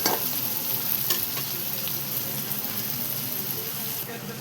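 Onion, tomato and green chilies sizzle and get stirred in a pan while fenugreek-leaf bhaji is cooked. A steady close frying hiss carries scattered scraping stir strokes.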